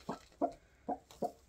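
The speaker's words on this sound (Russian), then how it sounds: "тяжело работать прям с гнездом, когда в нем сидят курочки" Hens sitting in a nest give four separate clucks at a steady pace, close and moderately loud, with no talking over them.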